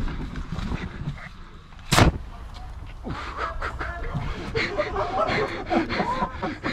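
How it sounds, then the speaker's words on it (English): A Swit Airsoft RPG-7 warhead bursts on impact as its nose-cone CO2 cartridge is punctured to release smoke: a single sharp, loud blast and hiss rising over constant outdoor background noise. "Brought out our RPG-7 by Swit Airsoft, with a warhead that'll explode on impact"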